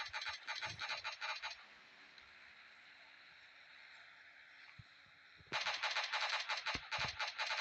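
Rapid automatic gunfire from the PUBG video game crackles in dense bursts at the start and end, with a quieter stretch of faint ambient noise between them.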